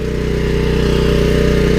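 A Champion dual fuel 7000-watt portable generator runs loudly at a steady idle, its engine drone constant and close with exhaust reverberating off a nearby wall, no voices over it.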